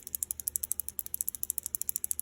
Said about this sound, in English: Makes a pretty loud rattle, so that should work really well.